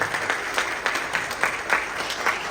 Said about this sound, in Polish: I bardzo proszę o brawa, że tutaj wszyscy się znaleźliśmy kolejny raz w rok.